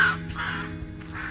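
Crows caw in a park in Washington, harsh, close calls sounding over a low steady background hum, with a couple of raspy bursts in quick succession.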